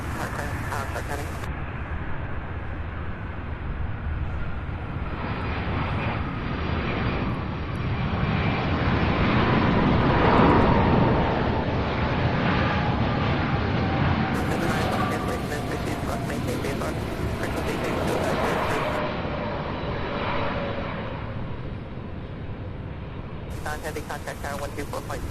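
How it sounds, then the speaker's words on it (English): A jet airliner landing at Louisville International Airport, its engine roar swelling and sustained with a descending whine, heard from a spotting position with people talking over it. "Beautiful landing, my goodness."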